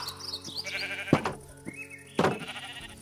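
Sheep in the video game Minecraft bleat twice in clear, close bursts, set against soft game background sounds.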